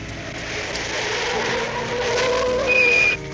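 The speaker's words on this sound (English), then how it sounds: "Well, I better take a look at those squeaky brakes." Cartoon car skidding with squeaky brakes, a rising tire squeal that sharpens into a high, thin screech before cutting off abruptly, heard over a rumbling engine with repeated ticking clicks.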